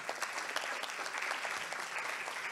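Audience applause at a LACNOG network operators' conference, a steady patter of many hands clapping heard from some distance and fairly faint, running alone without speech.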